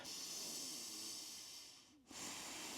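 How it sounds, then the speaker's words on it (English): Slow, quiet breathing during a diaphragm release exercise, a soft airy hiss of long breaths close to the microphone, with one brief pause before the next breath resumes. "And I'm breathing."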